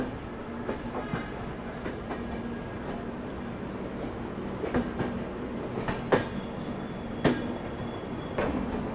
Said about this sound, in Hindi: तो ये आपकी भिवानी प्रयागराज कालिंदी एक्सप्रेस डिपार्चर ले रही है कानपुर सेंट्रल स्टेशन से।